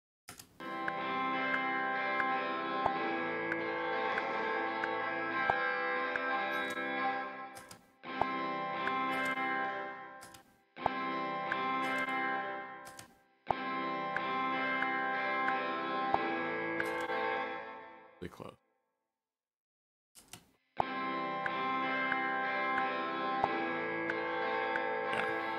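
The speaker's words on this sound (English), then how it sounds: "the reverb, the sort of first thing you hear in the reverb, is synced with the beat tempo" Music from a song, processed in a mix with reverb synced to the beat, plays in rhythmic blocks, its reverb tails cut off sharply in time with the beat, broken by brief near-silent gaps.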